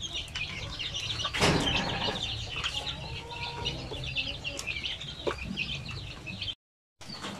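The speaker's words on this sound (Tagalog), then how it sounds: "yan yung mga sisiw na yan" Native chicks and hens in a Basilan flock cluck and chirp near and far, with one loud flurry of flapping wings early on and steady high peeping throughout.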